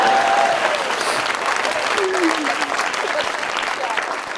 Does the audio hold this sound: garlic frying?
no